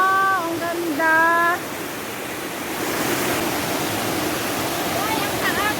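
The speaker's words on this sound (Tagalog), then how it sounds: "ang taas ng waterfall" A tall waterfall in Penang, Malaysia roars as a steady, dense rush of falling water, with people's voices heard briefly at the start and again near the end.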